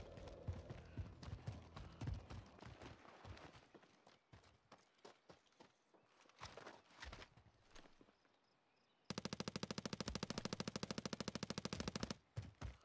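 Gunfire in a military shooter video game, with scattered single shots and bursts through the first half, then a loud, steady, rapid machine-gun burst from about nine seconds to the end.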